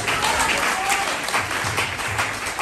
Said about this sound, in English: clap the Lord for victory